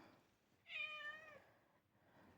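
A kitten gives one short, high, faint meow indoors in an otherwise quiet room.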